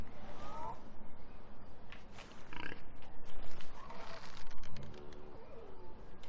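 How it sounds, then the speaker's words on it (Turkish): Pig grunts and oinks from Far Cry Primal play out amid clicking keys and background game noise, with a voice talking over parts of it. "Domuzcuk saldırma bana."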